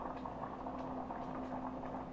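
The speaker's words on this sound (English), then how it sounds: "I brought this up to a boil" Cheddar potato soup, already holding potatoes, comes up to a boil in a pot with a steady, close bubbling and churning of liquid, continuous and even throughout with no voices.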